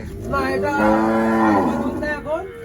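A cow at a cattle market gives a long, loud, close moo that rises and holds, followed by a shorter second call near the end.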